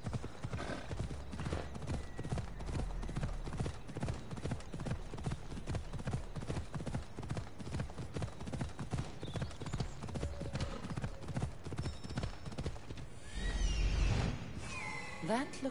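Video game horse hooves clip-clop in a fast, steady rhythm throughout, with brief whooshing near the end and faint background game sounds.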